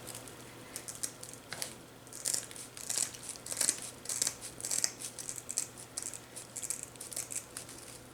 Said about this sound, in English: I'm going to take some of the bristles off the back of the tree so he fits better.